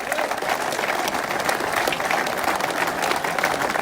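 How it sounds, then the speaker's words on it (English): A crowd gathered outdoors at a veterans parade speech event gives steady, dense applause that holds at an even level throughout, with scattered voices among the clapping. "give a big round of applause, please, for Gerard Batten"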